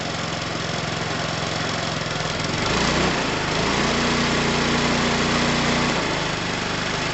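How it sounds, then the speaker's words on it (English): A moped engine idles steadily, then revs up to a higher, sustained pitch for a few seconds before dropping back down, loud and close. "Revving it up changes nothing."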